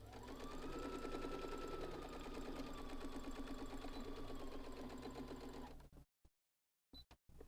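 Stitching across a boxed corner of a fabric bag, a sewing machine whirs quietly but distinctly in one long steady run, then gives a few short stop-start bursts at the end.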